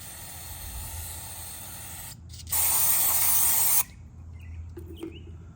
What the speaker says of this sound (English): Just gonna clean up the inside of the cartridge with some brake cleaner.